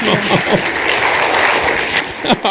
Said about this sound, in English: please give a big applause for Judy Palmer.